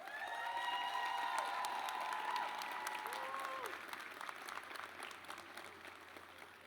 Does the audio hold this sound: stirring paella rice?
no